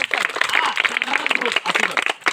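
Audience at a magic show clapping in quick, uneven bursts of applause, with voices chattering and calling out over the claps.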